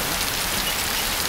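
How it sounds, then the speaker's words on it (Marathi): Steady rain falls in a dense, even hiss of drops on surfaces, loud and close throughout, with no voices heard. "पाऊस आला रे."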